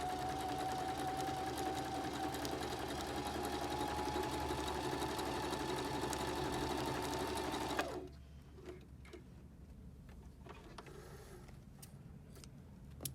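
Baby Lock Zeal sewing machine stitching a triple zigzag, a fast steady whirring hum for about eight seconds that stops abruptly, leaving quiet room tone with a few faint clicks.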